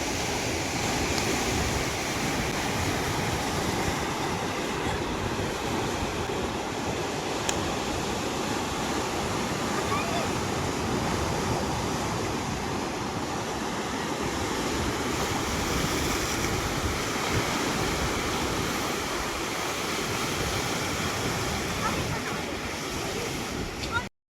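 Sea waves wash steadily onto a beach in Pondicherry, a continuous broadband roar of surf with wind buffeting the microphone throughout, loud and close with no clear breaks.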